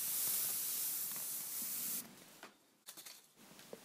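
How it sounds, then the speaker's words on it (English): A can of multi-surface polish sprays a steady, close, loud hiss onto a wet clear-coated surface for about two seconds, followed by faint handling clicks and rustles. "Multi-surface polish acts as a hydrophobic agent and is sprayed when the clear coat is still wet."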